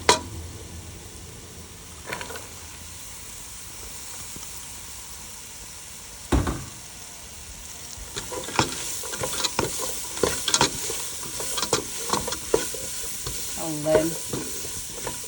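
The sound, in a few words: onions frying and being stirred in a pan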